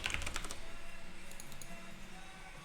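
Computer keyboard keys clicking in quick, steady typing during a livecoding session on authentication test code, close and fairly soft, with no talking.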